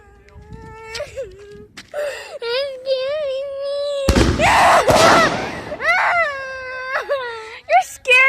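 Fireworks go off up close outdoors, with one loud, crackling blast lasting about a second, surrounded by a frightened dog's high whimpering and whining.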